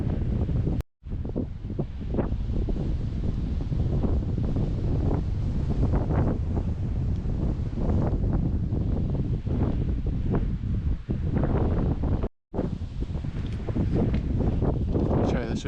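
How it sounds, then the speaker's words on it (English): Strong gusts of Storm Arwen buffeting a microphone near the Airlie Monument in Scotland, a loud continuous roar of wind with two brief dropouts. "The wind's so strong, but look at this."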